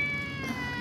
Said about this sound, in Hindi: ये बिल्लियाँ ऐसे कभी नहीं रोती